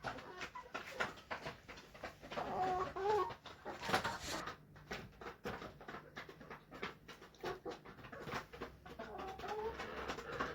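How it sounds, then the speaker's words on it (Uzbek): Andijan black chickens cluck and murmur close by in repeated short bursts, with a busy, scratchy poultry-yard clatter between calls and no talking. "Bu Andijon qora tovuq xo'rozlari."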